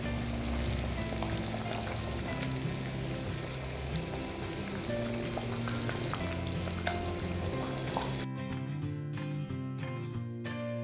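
Fish curry (meen kulambu) bubbles and sizzles steadily in the pot as the fish goes in, a dense continuous frying hiss that cuts off near the end, with no talking.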